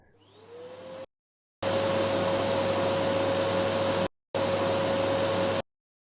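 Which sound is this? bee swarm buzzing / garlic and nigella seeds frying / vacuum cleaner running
vacuum cleaner running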